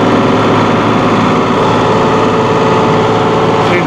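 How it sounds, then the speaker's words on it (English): A 2016 John Deere 5045E utility tractor, a 45-horsepower diesel, runs loud and close at open throttle, giving a steady, dense engine roar throughout. "Open up the throttle here. Open up the throttle."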